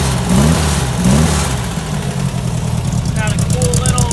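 Engine of a 1964 Volkswagen Notchback with an original 1500 motor, unsynced carburetors and a small Canon exhaust, idling with a steady uneven putter close by while a person talks over it.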